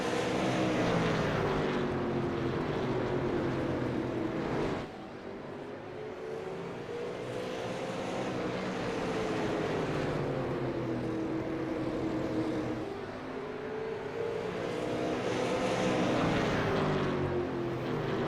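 Race cars in a SARA One Eight National Tour consolation race at Oxford, a continuous loud engine drone with rising and falling pitch as cars circle past, swelling and easing in waves with no talk.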